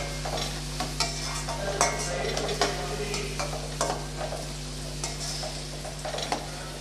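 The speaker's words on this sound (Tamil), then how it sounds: "சேர்த்து நல்லா வதக்கி விட்டுறலாம்" Onions and garlic sauté in a pan with a steady low sizzle over a constant hum, punctuated by repeated scraping stirs and light clinks of a spoon against the metal.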